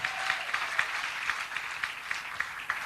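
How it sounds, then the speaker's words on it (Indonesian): Church congregation applause at a preaching summit, a steady distant wash of many hands clapping with no talk over it. "Tepuk tangannya lebih kuat lagi lah."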